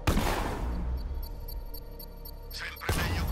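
A loud burst of rapid gunfire in the video game Batman: Arkham Knight crackles for a few seconds, then another sharp volley erupts near the end, with a thin electronic tone hovering between.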